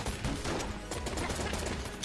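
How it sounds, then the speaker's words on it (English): Rapid gunfire from the Sprun gun in Enter the Gungeon, a dense, continuous barrage of loud shots close up, cannon-like and unbroken for the whole stretch. "I believe Sprun uses a sound effect that's similar to Luxon cannon."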